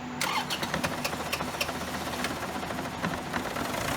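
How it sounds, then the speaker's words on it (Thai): A car engine fitted with an oil vapor catch tank cranks and catches, then runs shaking with a rough, rhythmic knocking chug, loud and close, continuing steadily. "สตาร์ทรถ"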